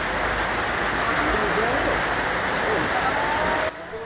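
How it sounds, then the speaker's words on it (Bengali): Rain comes down over a river in the Sundarbans during a fishing trip, a steady, even wash of falling water that holds constant and then drops off sharply at the very end. "বৃষ্টি আসছে, বৃষ্টি।"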